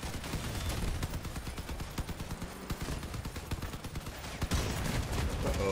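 Machine guns fire in a vehicle combat video game. The shots are dense and rapid, loud and continuous throughout, with sharp cracks layered over rumbling engine noise.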